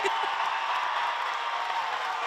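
A basketball crowd at a WNBL game between UC Capitals and Townsville Fire reacts unhappily during free throws, a dense, steady roar of many voices filling the arena.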